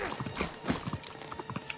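Horse hooves clip-clop in the video game Uncharted 3, a busy run of close, uneven hoofbeats with clatter and rumbling movement throughout.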